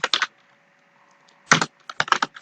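Keys tapped on a computer keyboard while writing Spring Security code, in two short bursts of a few clacks separated by a quiet gap, close and fairly loud with no talking.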